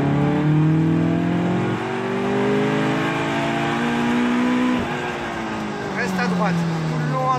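A Caterham race car on the Croix-en-Ternois circuit drones steadily, its engine pitch dipping and then climbing again as it accelerates. A voice talks over the engine.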